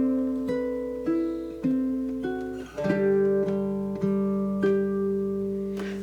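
A baritone ukulele plays the closing four measures of a Hawaiian waltz, ringing strummed chords struck roughly every half second to a second, sustaining and decaying between strums, close and clear with no voices.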